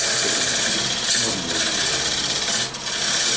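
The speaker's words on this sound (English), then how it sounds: "let's do a preliminary cut with the bigger gouge" A bowl gouge cutting wood on a spinning lathe during bowl turning, a loud continuous rasping shear with slight swells as the tool moves, close and steady without speech.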